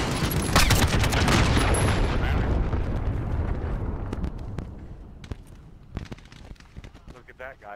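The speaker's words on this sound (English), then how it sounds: "Enemy cruise missile incoming." A cruise missile strike in Call of Duty Modern Warfare online multiplayer sets off a loud rolling blast with a dense burst of gunfire-like crackle that tapers over several seconds into scattered sharp pops.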